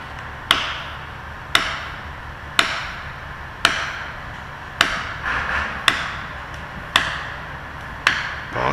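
A wedge is pounded into a maple being felled: about eight sharp, loud wooden-metal strikes land close by at an even pace of roughly one per second, each ringing briefly, with no talking.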